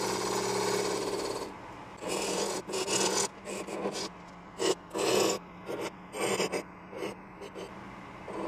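A sharp new wood gouge carves and scrapes smooth wood in short, irregular rasping strokes broken by brief pauses, heard up close and fairly quiet.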